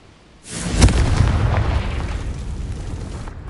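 A Confringo spell explodes in the video game Hogwarts Legacy: a sudden loud boom with a sharp crack that swells into a long, rumbling roar and holds for nearly three seconds.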